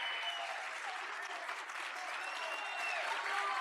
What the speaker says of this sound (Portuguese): Uma salva de palmas pra ele.